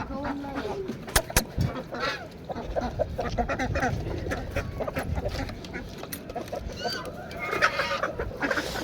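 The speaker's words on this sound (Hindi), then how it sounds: "ये वाली मुर्गी हमने सेल करनी है जी।" A hen clucks in repeated short bursts among other poultry calls in a backyard coop, with people speaking nearby.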